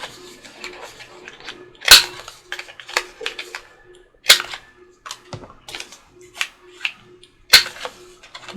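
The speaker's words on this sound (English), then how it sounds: "I'm going to go ahead and round these with the same size corner rounder here" Paper corners being rounded with a 4mm corner rounder punch, giving a string of sharp clicks and snaps at irregular intervals with three louder punches standing out, close and alone.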